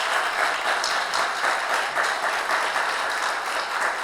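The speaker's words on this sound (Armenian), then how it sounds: "Եկեք ծափարենք իր պապային։" A church congregation applauds a child's father, sustained dense clapping from many hands that stays even and fairly loud throughout, with no voices standing out.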